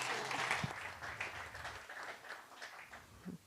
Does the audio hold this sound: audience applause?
yes